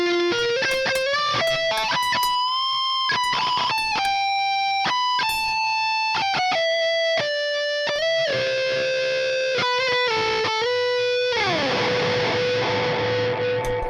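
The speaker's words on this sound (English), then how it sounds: "You can just get some really, really nice reverb." Guitar played through a Walrus Audio Slö ambient reverb pedal, a sequence of picked notes and short phrases with long shimmering tails, ending on a sustained note that sweeps and swells into a wide wash of reverb.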